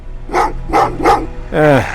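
Dogs bark in the video game Terminator: Resistance, three evenly spaced barks followed by a longer rising whine-like bark, close and loud.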